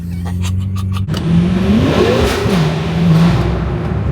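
A BMW F10 M5 idles with a low, loud drone, then revs hard during a tunnel run, its engine note rising and falling in several close, booming sweeps.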